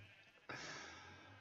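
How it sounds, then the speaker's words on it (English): Sheep bleat in Minecraft: a sudden loud bleat breaks in midway and carries on as a sustained cry over a soft background hum. "I can hear sheep going off everywhere."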